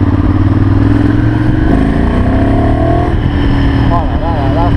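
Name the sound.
Ducati Monster 796 motorcycle accelerating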